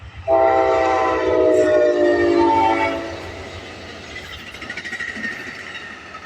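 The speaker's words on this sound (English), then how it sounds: "Here is Amtrak 30, the capital limit with a 1-engine solo and 5 cars." Amtrak 30, the Capitol Limited, led by a single engine with five cars, sounds a loud sustained horn blast nearby, then rolls past with fading rumble and light wheel clatter.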